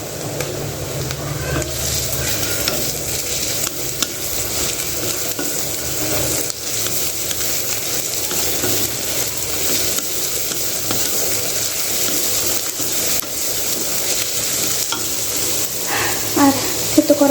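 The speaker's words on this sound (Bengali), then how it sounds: "আর থেতো করা আদা দুটোই দিয়ে দেব। আগে রসুন দিয়ে দিলাম।" Crushed garlic and ginger go into a pan of browned onions, which sizzle steadily under repeated stirring and scraping, with a louder crackle near the end; a voice talks briefly at times.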